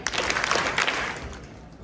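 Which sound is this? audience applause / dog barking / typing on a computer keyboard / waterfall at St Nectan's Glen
audience applause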